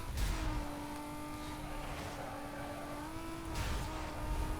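A Nissan Skyline GTS-T R32 engine in the Need for Speed: Most Wanted racing game, a steady loud drone on a held gear with a brief rise in pitch late on, bursts of tire noise at start and end, no talk.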